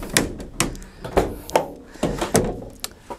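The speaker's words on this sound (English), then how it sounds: "Just open the side door to let a bit of light in the back" A series of sharp thunks and clunks comes from the sliding side door of a 2018 Renault Kangoo Maxi ZE33 electric van as it opens. The handling knocks are close and irregular, about eight in three seconds.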